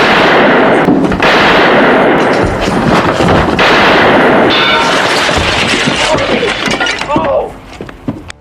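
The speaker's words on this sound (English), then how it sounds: "The sound of gunfire brings the townspeople out of their homes to see what happened." Loud gunshots crack and boom in a western film scene, layered with dense crashing noise and a voice, before the clamour thins out near the end.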